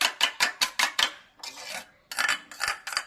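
Quail eggs are beaten for an omelette in a bowl. Quick, rhythmic clinking strokes come close and clear, in two bursts separated by a short scraping pause, with no voices.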